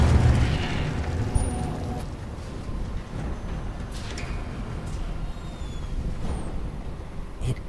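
An Incendio fire spell in a Harry Potter video game gives a loud, sustained roaring rush of flame with a heavy low rumble that starts strong and then holds steady, with a few faint whooshes on top.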